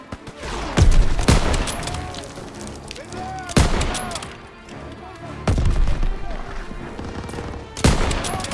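Gunfire bursts in the Call of Duty: WWII game, sharp loud cracks and volleys recurring every couple of seconds at a factory, with voices shouting between shots.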